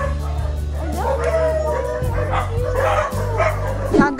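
A small pet dog yips, whimpers and gives short barks close by, mixed with a voice speaking affectionately over a steady low background hum.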